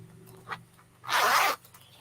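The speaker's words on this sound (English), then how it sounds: "it has a zipper" A bag's zipper is drawn in one short, crisp rasping pull, preceded by a couple of faint handling taps, close and clear.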